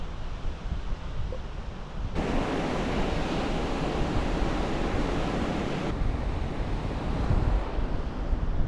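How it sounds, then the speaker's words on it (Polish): Strong wind roars across the microphone in a dense, steady rush on a Baltic Sea beach, mixed with the wash of surf, growing louder after a quieter start. "Mocno wieje, ale w dobrą stronę."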